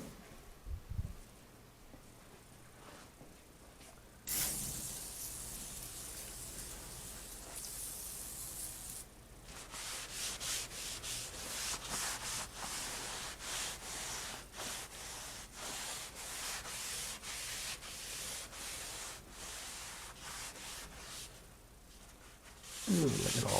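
A shop towel rubs and wipes over a rusty part from a Ford Ranger cooling system, giving a long, steady, close scrubbing hiss with short strokes.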